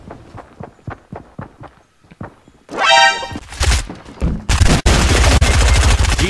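Submachine gun fire in the video game Fortnite rattles in loud, rapid bursts, following a string of sharp, evenly spaced single shots and footsteps.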